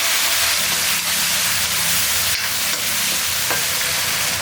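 Chopped tomatoes tipped into a pan of frying onions and curry leaves, with a loud, steady sizzle and a few scraping stirs.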